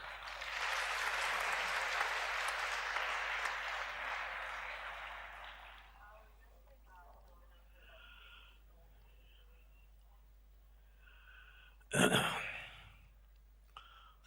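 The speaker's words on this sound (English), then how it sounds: "Please give him a round of applause." An audience at a spiritual gathering gives a round of applause, a soft, fairly distant wash of clapping for about six seconds that fades into a quiet hall, followed by a brief louder noise near the end.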